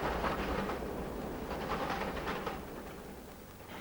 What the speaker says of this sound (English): 58032 is heading with the Cricklewood bin liner